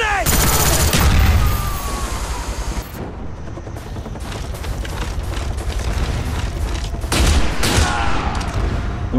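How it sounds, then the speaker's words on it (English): Grenade blast and rapid gunfire in Call of Duty Black Ops combat training, a loud boom up front followed by dense bursts of shots and sharp cracks, with in-game voices calling out. "Grenade!"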